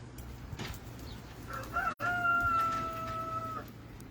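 A rooster crows once, a long drawn-out cock-a-doodle-doo at moderate distance over low outdoor background noise.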